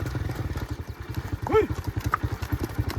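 A mare stamps her hooves in a steady rhythm of low thuds. The thuds repeat close by, with a brief voice-like tone partway through.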